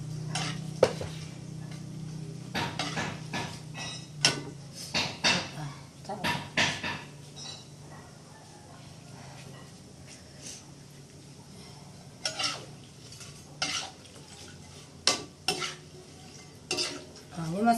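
Chili sambal with petai being stirred and fried in a pan: irregular scrapes and sharp clanks of a utensil against the pan over a low sizzle, coming in bursts, with people talking at times.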